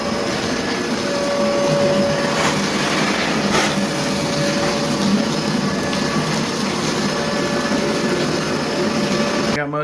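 VacMaster Beast wet/dry shop vacuum running steadily at close range, a constant loud whine and rushing airflow throughout with a faint tonal hum, used for cleanup during a drywall mudding job.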